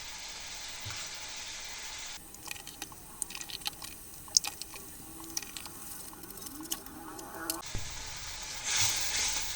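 Salt, turmeric, chili and cumin powders frying in bubbling oil for an egg, potato and pea curry make a soft, quiet sizzle, broken by scattered stirring clicks and scrapes.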